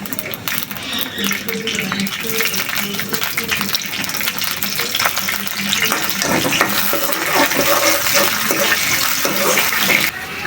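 Kalonji seeds, green chilies and bay leaf sizzling in hot oil for a taro bhaji, a steady crackling hiss that swells toward the end, with a voice talking over it.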